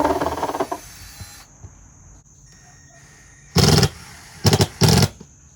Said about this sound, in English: Now that you're fixed in place, you can drill both holes